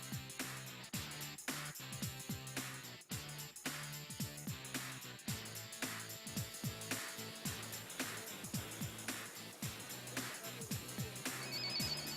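A mobile phone rings with a repeating melodic ringtone, steady and fairly loud for about twelve seconds, with no talking over it.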